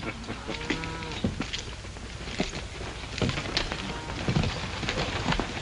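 A cow moos with a drawn-out low call early on, amid outdoor noise with scattered knocks and thuds.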